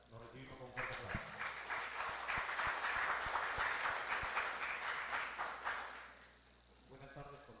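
Loud applause from a crowd welcoming a lecturer, steady clapping that swells for several seconds and then fades, followed by a brief moment of quieter sound.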